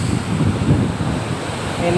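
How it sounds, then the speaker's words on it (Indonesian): Large ocean waves surge against a concrete sea wall on the coast of western Lampung, a continuous loud roar of churning water and wind with no clear individual breaks. "ini ombak lautnya lagi besar banget"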